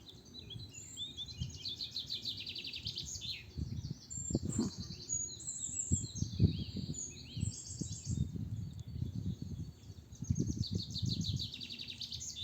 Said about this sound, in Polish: Włączyłam, kochani, abyście mogli posłuchać tego koncertu ptaków.